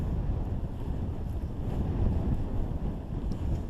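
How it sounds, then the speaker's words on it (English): Strong gusting wind on a mountainside at Scales Tarn roars and buffets the microphone in a continuous low rumble that swells and eases, with no talking. "the wind keeps dying down and then coming back in ferociously"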